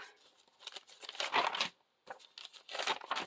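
Dyed graph paper being handled for a junk journal crinkles and rustles up close, in several quick bursts of crisp paper noise broken by a short silent gap.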